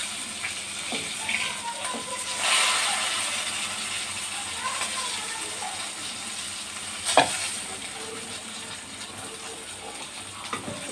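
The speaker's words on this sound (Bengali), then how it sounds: "কিছুক্ষণ অপেক্ষা করে উল্টে পাল্টে লালচে করে আমি শোল মাছগুলি ভেজে নেব।" Shol fish (snakehead) frying in hot oil in a pan, a steady close sizzle with occasional scraping clinks as the pieces are turned.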